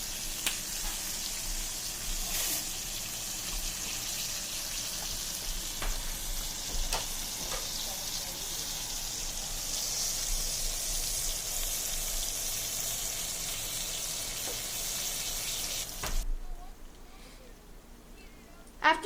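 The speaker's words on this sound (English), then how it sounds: "Here's some ASMR to hear the sizzling." Continuous crackling sizzle of a peppercorn steak in a hot pan, with occasional spatters and clinks, cutting off abruptly near the end.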